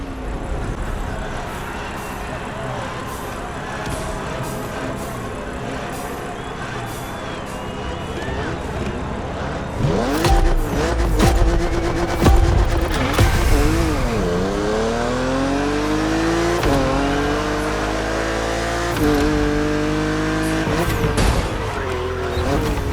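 A BMW Z4 driving on the roads of Maui in The Crew Motorfest video game, its engine steady at first, then revving hard with rising and falling pitch sweeps, loud and close, with brief tire noise and no talk.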